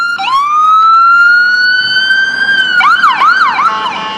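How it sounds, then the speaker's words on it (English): An ambulance siren wails steadily, then switches to a rapid rising-and-falling yelp as it passes close by on a street during a walk, loud against traffic noise. "Look, here comes an ambulance."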